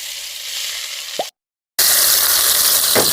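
Ginger, garlic, green chili, curry leaves and onion drop into hot frying oil with a single plop. After a brief silence, a loud, dense sizzle takes over.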